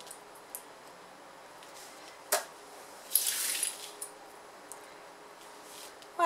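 Sewing clips snapped onto the edges of a fabric pouch, a few faint, sparse plastic clicks and light rustles at irregular intervals against a quiet background.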